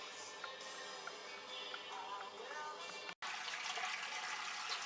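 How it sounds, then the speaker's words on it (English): Mash water pours into a mash tun on an all-grain home brew day for an American IPA, a steady rushing splash that continues throughout and drops out for a moment near the end. "Mash water in the mash tun."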